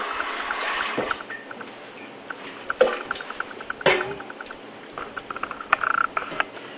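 Cooked mung beans are rinsed with water, heard as irregular splashing and pattering with scattered sharp clinks and knocks, close and moderately loud.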